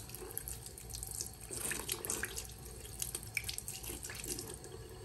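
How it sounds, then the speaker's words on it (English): Running tap water splashes steadily over a trumpet mouthpiece being rinsed, a close, continuous rush with small splatters and drips and no talking. "let's see what happens when I rinse this guy out"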